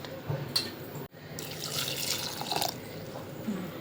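Water is poured into a cooking pot in a home kitchen during festive cooking, a splashing, running rush that swells for over a second after a brief gap, fairly close and steady.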